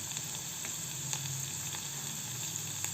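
Potatoes deep frying in hot oil give a steady, dense sizzle with crackling pops throughout, close and continuous with no voices.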